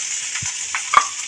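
Sliced carrot and long-cut cabbage frying in a pan, a steady hiss with a couple of brief scraping stir strokes, close and alone.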